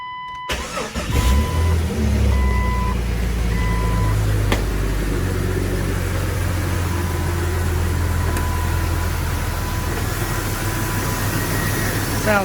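A Jeep Cherokee with a freshly swapped engine cranks, catches and settles into a steady idle, a close, continuous hum with a few faint tones and clicks around it.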